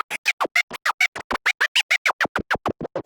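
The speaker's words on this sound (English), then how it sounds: "the jog cutter mode does is that it actually creates the sound of the vinyl cuts without actually using the crossfader" Rapid DJ scratch cuts from a jog cutter effect in rekordbox on a Pioneer DJ controller, about twenty short choppy bursts in quick rhythmic succession, sharp and close with no other sound.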